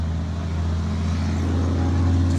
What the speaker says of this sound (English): Just waiting for that really loud truck to go by.